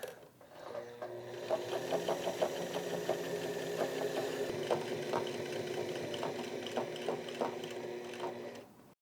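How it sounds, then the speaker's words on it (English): A sewing machine stitching the side seam of a button-up shirt runs steadily for several seconds with a rapid mechanical whir and light rhythmic clatter, close and moderately quiet, without speech. "I'm just going to do a seam down the side, attach my cuffs, and call it a day."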